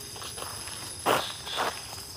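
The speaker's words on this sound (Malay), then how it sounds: "Dengar bunyi tapak kaki." Footsteps crunch on a forest floor at night, two distinct heavier steps mid-clip over a faint insect and cricket-like background hum, with no talking.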